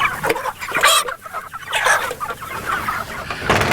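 Pastured broiler chickens cluck continuously at close range in a shelter of about 75 birds on a regenerative farm, several overlapping calls with no talk.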